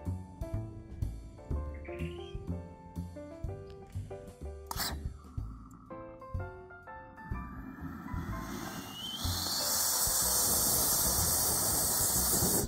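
Pressurised gas set to 10 bar suddenly bursts through a pressure-regulated valve during a hybrid rocket engine start test, becoming a loud, steady, sustained hiss after quieter chirping tones.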